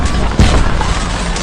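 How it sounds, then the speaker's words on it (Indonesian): An explosion tears through a military base in an action film, a loud booming thud at about 0.4 seconds over a dense, rumbling din of blasts and debris. "Namun di belakang sana tiba-tiba saja markas militer meledak."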